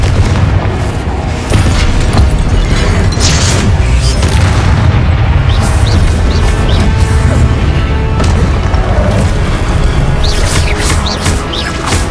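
Spell explosions from Confringo in the game Hogwarts Legacy sound as a dense, continuous barrage of loud booms and crashes over a heavy rumble, with cast shouts in between.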